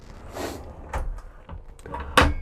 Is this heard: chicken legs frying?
no